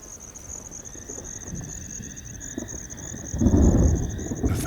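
Distant thunder from a passing storm over the Masai Mara at night, a low rumble swelling near the end, under steady chirping crickets and insects.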